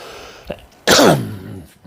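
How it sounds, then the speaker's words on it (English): A single loud, close cough with a rough throat-clearing rasp, preceded by a small catch of breath. "Forgive me for over here coughing and hacking."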